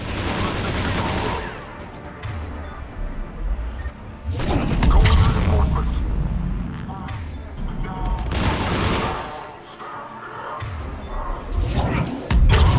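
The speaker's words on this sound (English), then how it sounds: "The cannon fire is clearing the way." Heavy cannon fire in the Mass Effect 3 Legendary Edition video game, several loud booming blasts at irregular intervals mixed with battle noise and game dialogue.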